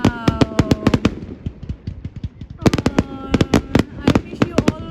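A fireworks display on the Gorleston cliff top in the UK, with rapid sharp bangs and crackling bursts coming in dense volleys, a brief lull, then another loud barrage.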